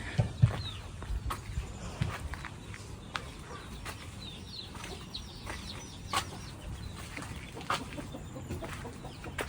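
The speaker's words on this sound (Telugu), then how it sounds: "ఈ లైన్ లైన్ మొత్తం కోడి గంపలు కట్టి ఉంచారు చూడండి" Chickens kept in woven baskets in a forest tribal hamlet in Andhra cluck softly and sporadically. Their faint, scattered calls sit at a distance over low outdoor background noise.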